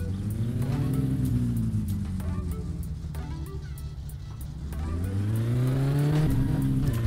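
The Satsuma car in My Summer Car, fitted with twin carburetors, has its engine revved close up. The pitch climbs, sags and swells again in loud, sustained waves.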